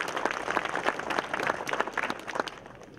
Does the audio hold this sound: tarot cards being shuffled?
no